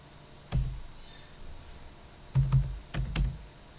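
A few soft, muffled keystrokes on a computer keyboard as a withdrawal amount is entered: one isolated press, then a short cluster of taps a couple of seconds later, quiet and close in a still room.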